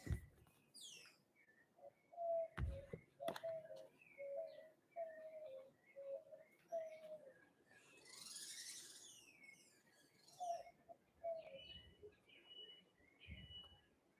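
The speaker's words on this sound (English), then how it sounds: "birds, sing some songs while I do the cards" Birds calling outdoors, with repeated cooing dove-like notes and scattered higher chirps and tweets at moderate distance, interrupted by a couple of sharp nearby knocks and a short burst of rustling.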